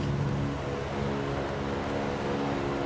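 Engines of a DC3 airliner drone on final approach as power is brought back, a loud, steady, low rumbling hum filling the cabin with no distinct changes and no voices.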